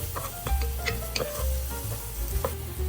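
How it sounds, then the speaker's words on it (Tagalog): Onions sautéing with garlic in a pan for cheesy menudo, a steady sizzle and frying hiss broken by repeated clacks of a spatula stirring, close and fairly loud throughout. "ilagay ang sibuyas bago pa mag-brown ang ating bawang"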